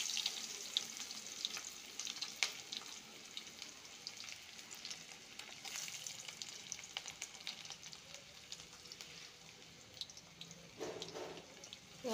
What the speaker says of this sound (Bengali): পেঁয়াজগুলো একটু ভাজা হোক।